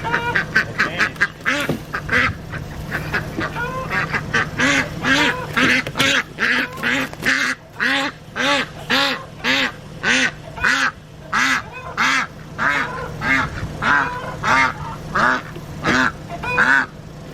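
Ducks quack repeatedly and loudly nearby in a steady, rapid series of nasal calls that continues for the whole stretch, with a low background hum.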